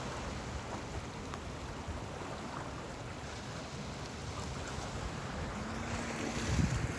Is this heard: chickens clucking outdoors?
no